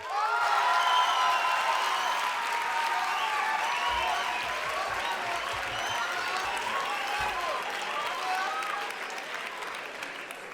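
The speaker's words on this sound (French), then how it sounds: "Une ovation pour Madame Esther Alder." A large audience at a Geneva civic ceremony gives Esther Alder an ovation, sustained dense clapping mixed with scattered cheers and whoops, steady and loud throughout before tapering slightly at the end.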